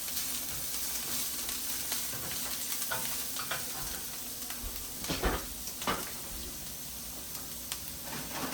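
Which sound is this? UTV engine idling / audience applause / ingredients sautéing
ingredients sautéing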